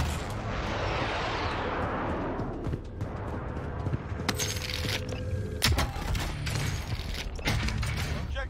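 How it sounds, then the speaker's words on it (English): Precision airstrike explosions in Call of Duty Modern Warfare roar in as a long rushing blast that fades, followed by scattered sharp cracks, rattling debris and distant gunfire, moderately loud and without talk. "Friendly precision airstrike inbound."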